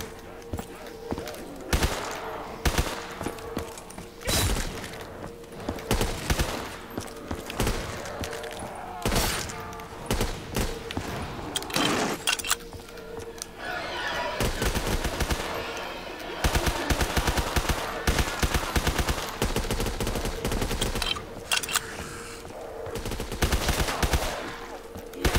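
A dense, continuous roar of MG42 machine gun fire dominates a video game battle, rapid bursts overlapping with other gunfire and explosions for the whole stretch, loud and close.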